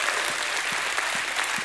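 A church congregation claps their hands in praise, a dense burst of steady applause from many people in a large room with shouts mixed in.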